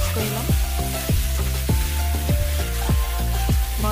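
Masala fish curry with boiled pumpkin pieces is stirred in a hot pan. A loud, close sizzle runs throughout, with a rhythmic scraping of the spoon roughly twice a second.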